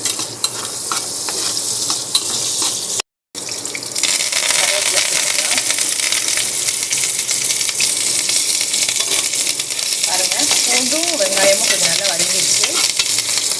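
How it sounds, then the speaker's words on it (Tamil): Small shallots sauté in a pan over a low flame, producing a steady bubbling sizzle with stirring scrapes, interrupted by a brief gap of silence, then resuming evenly with faint clinks. "இது கொஞ்சம் நல்லா வதக்கி எடுத்துக்கலாம் லோ ஃப்ளேம்லேயே வச்சு வதக்குங்க"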